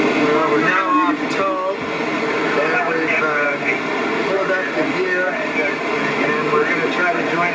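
A tow plane pulls a glider at 1,000 feet during a 1990 soaring contest, heard from inside the glider as a loud, steady engine and wind drone with a voice talking over it.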